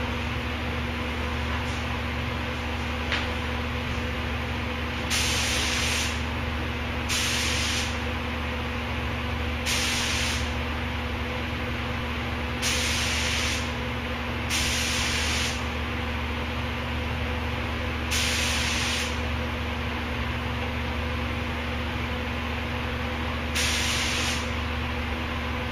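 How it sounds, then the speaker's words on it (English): A small paint spray gun at roughly 21 to 22 psi sprays the corrosion-repaired rear gate of a 2003 Suburban, giving seven short hissing bursts of a second or two each, separated by pauses over a steady low compressor hum. "Spraying this at about 21, 22 pounds on this little gun"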